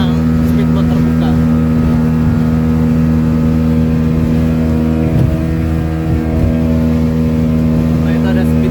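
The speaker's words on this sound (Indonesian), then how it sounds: "itu ada speedboat yang terbuka ya teman-teman tuh" An open speedboat crossing rough sea with large waves between Penajam and Balikpapan in the late afternoon: a steady, loud outboard engine drone runs throughout, with wind and water noise.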